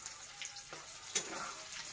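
Potato pieces frying in hot oil in a pan, a faint, steady crackling sizzle with a soft stir or clink partway through, alone without talk.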